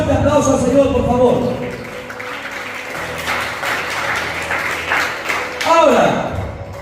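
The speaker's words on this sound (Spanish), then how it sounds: "Den un fuerte aplauso al Señor, por favor." A church congregation applauding, a burst of clapping that swells and fades amid reverberant room noise and scattered voices.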